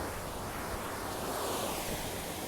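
Rough surf pounding a rocky Jamaican coastline, a continuous broad wash of breaking waves heard from some distance, fairly quiet with wind on the microphone and no voices.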